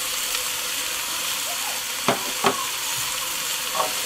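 Garlic frying in a pan for chili con carne, a steady close hiss broken by a few sharp scraping stirs.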